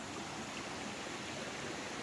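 Faint, steady rushing of a mountain stream running past a small grist mill in Great Smoky Mountains National Park, flowing at low water after a few dry days, with no voices.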